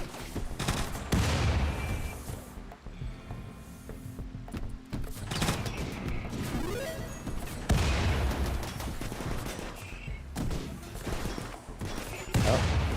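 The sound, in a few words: gunfire in RimWorld video game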